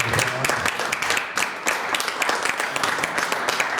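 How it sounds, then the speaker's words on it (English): Crowd applause at a Clark County School District event, a dense stretch of many hands clapping throughout. "Give them a round of applause."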